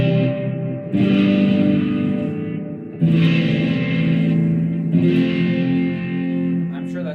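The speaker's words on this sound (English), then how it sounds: "If I make a 1, 5, 6, 4, it'll sound like this." A I-V-vi-IV chord progression rings out on a heavily effected, distorted instrument with echo, four sustained chords struck one after another at a steady pace, loud and up close with no talking.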